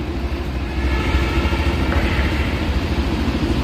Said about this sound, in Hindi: पूरी यामा वाली साउंड है, जो यामा के इंजनों में साउंड आती है वही है।